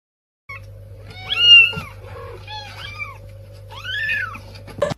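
A pet cat meows several times in a row, drawn-out and close, with wavering calls of varied pitch over a steady low hum and a brief clatter at the end.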